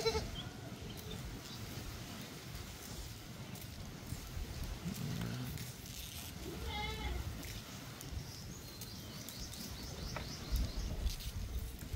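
A goat bleats a few times at a farm where goats feed on coconut leaves, the calls mid-distance amid steady outdoor background noise and birdsong.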